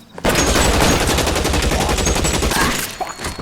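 Rapid gunfire in the crime game L.A. Noire, a loud, sustained burst of automatic shots after a brief quiet start, rattling steadily for about three seconds before tapering off.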